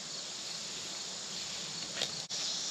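Steady, dense chirping of crickets and other bugs fills an outdoor yard where a kayak rack post is being set, continuous and fairly loud with a brief dropout near the end.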